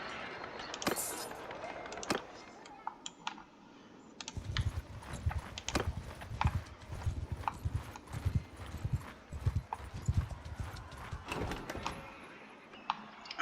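Horse hooves clip-clopping in the medieval battle game Mount and Blade II: Bannerlord, a steady rhythmic trot of several mounts close by, with faint clicks and soft background sounds.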